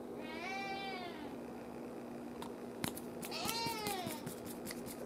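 A sick cat meowing twice, each a drawn-out, wavering cry, fairly faint with soft clicks and a low steady hum in the background.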